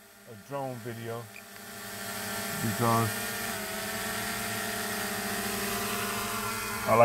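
A drone takes off and hovers, its motors giving a steady, rising buzzing whine that holds constant in the foreground while someone speaks briefly over it near the start and middle.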